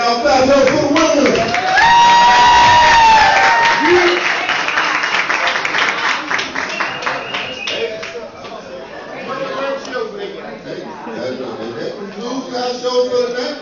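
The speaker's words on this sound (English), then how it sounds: "y'all clap it up for the winner" An audience at an amateur-night church comedy show applauds and cheers the winner, dense clapping strongest at first then thinning, with a host talking over it.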